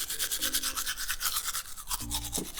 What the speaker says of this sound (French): Et maintenant, on va brosser toutes les dents